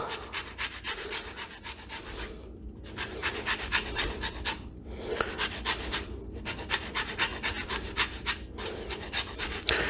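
Lemon peel zested on a lemon planer, rhythmic close rasping strokes in quick bursts separated by brief pauses, loud and alone.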